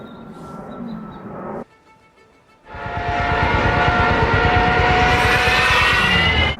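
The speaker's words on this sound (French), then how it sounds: "interlude avion. Celui-là, il va à Beauvais." An airplane flying overhead toward Beauvais swells in after a brief quiet gap, a loud sustained roar that holds steady to the end, following an earlier engine-like drone.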